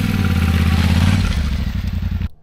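Motorcycle engine running jerkily at low speed, a loud close rough rumble with uneven surges for about two seconds before cutting off abruptly.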